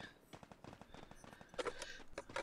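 Faint, distant gunfire in Free Fire crackles in scattered rapid bursts, with quieter single shots between them.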